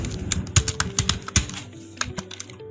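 Rapid clicking keystrokes on a computer keyboard while entering text into an Excel salary sheet, a quick irregular clatter close up with no speech.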